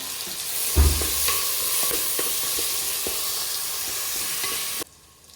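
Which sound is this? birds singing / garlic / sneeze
garlic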